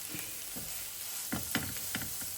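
Green chillies for beef cutlet sautéing in a pan: a faint background sizzle broken by several short scraping stirs of a spatula, close but quiet, with no voices.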